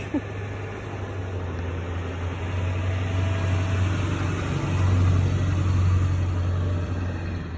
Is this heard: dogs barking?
no